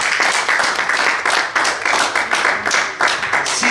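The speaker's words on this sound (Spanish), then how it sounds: "Denle un aplauso al Señor." Congregation at a Spanish-language church service breaks into sustained applause, a dense continuous wash of clapping at steady loudness with rhythmic accents throughout.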